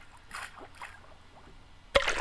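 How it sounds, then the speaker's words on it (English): A ball bursts up out of water as a sound effect: a sudden loud splash near the end, following a stretch of quieter gurgling and lapping water. "we need the effect of the ball coming out of the water"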